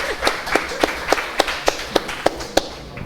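Sparse, evenly spaced claps from a small audience at a university quiz game, about ten sharp hand claps in a slow rhythm, fairly close and clear with little else around them.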